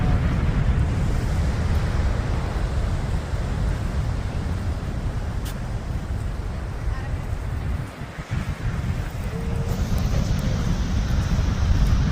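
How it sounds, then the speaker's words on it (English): Powerful ocean surf roars continuously at Reynisfjara Beach, Iceland, fierce waves crashing heavily with strong wind buffeting the microphone throughout. "Look at these waves. There was no way we were going past this fence. The waves are fierce."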